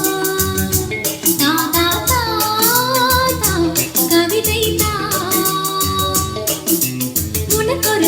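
Music with a steady beat and melodic lines plays loud and full through a Marantz MM7025 two-channel 140-watt stereo power amplifier, running continuously with no talking over it.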